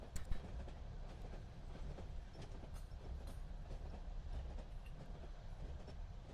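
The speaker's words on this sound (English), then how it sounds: "on a lovely train." Passenger train riding on rails, a steady low rumble of wheels on track with faint rhythmic clicks, continuous and fairly close, no voices.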